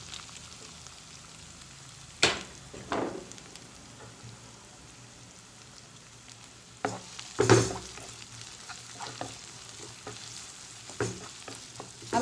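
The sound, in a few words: chopped onions frying in pan for chole masala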